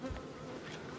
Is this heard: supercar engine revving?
no